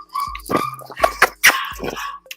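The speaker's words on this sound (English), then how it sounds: "I don't know if you guys can hear the puppies yapping" Puppies yap in short, sharp, high bursts, several quick yips clustered close together, loud and near, as they fuss while other dogs eat.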